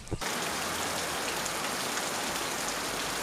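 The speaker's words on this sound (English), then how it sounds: "it has been raining for the past 15 minutes" Rain falling steadily over abandoned buildings of a sugarcane factory in Mariënburg village, Suriname, a dense even patter close by that stays constant throughout, with no voices.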